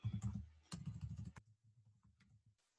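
Rapid clicks of fingers typing on a computer keyboard, a quick burst of keystrokes followed by softer, sparser taps that fade out, close and clear.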